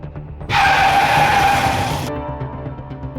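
A single loud tire screech as a car skids hard to a stop, lasting about a second and a half before cutting off, with a faint background hum.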